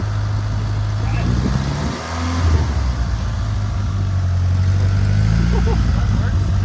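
A barn-find Mitsubishi Eclipse drives forward under its own power, its engine holding a steady mid-pitched hum with a brief dip and rev partway through, close by, while people talk over it.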